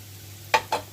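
Mashed potato goes into a pan of fried onions, giving two brief, close bursts of sizzling and scraping a moment apart against a quiet background.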